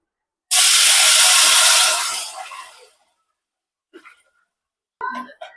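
Ground masala hits hot ghee with a loud, sudden hissing sizzle that lasts about two seconds and then fades, followed by brief faint clinks and stirring.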